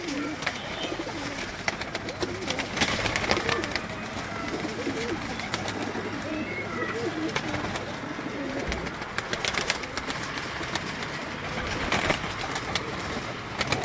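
Pigeons of a prized breed coo steadily on a rooftop, a dense, continuous murmur of low calls with occasional wing flutters and sharp knocks, moderately close, with faint talk in the background.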